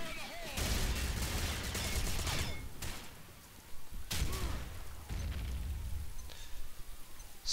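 Grenade blast in the video game Combat Arms, amid surrounding gunfire: several sharp explosive bangs and bursts of shots break through a busy battle mix, with game voices heard in between.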